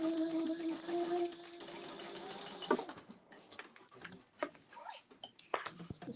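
A sewing machine runs a seam with back stitching for a little over two seconds, then stops and is followed by quiet scattered clicks and handling taps close by.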